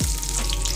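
Raisins fry in a pan with a steady, close sizzle and crackle throughout, loud and continuous with no voices.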